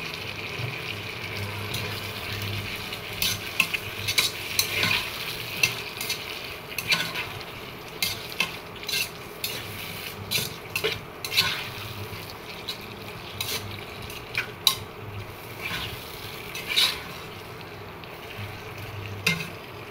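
Pointed gourd frying in a pan for a pabda fish curry: a steady, close sizzle of hot oil throughout, punctuated by irregular scraping and clattering strokes as the pieces are stirred, with no talking.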